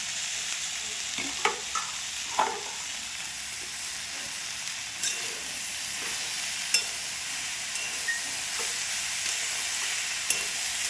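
Finely chopped khesari greens fry in a pan with a bright, continuous hiss and sizzle, punctuated by occasional clicks and scrapes of stirring, close and steady with no voices.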